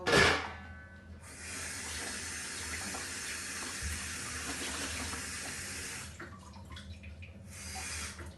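Steady running water from a tap pouring continuously for several seconds into a blender jar of peppers and scotch bonnet, with a brief clatter at the start and the flow faltering near the end.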